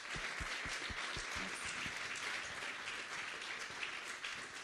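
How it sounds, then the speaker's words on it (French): A studio audience at a fashion show event applauds steadily, a fairly faint continuous patter of clapping with a few louder low thumps early on. "On l'applaudit encore."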